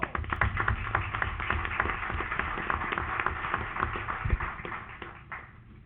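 An audience at a city council meeting applauds, dense scattered hand claps close by that keep up steadily and taper off toward the end.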